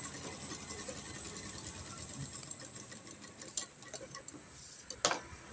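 A sewing machine stitches two pieces of fabric placed good sides together, giving a steady, rapid ticking under a faint hum, with a few louder mechanical clacks toward the end.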